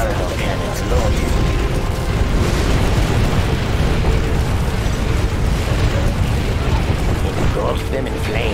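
Inferno cannon fire from the China campaign of C&C Generals: Zero Hour, a dense continuous barrage of bursting explosions and booms with mechanical clatter, loud throughout, with unit voice lines spoken over it.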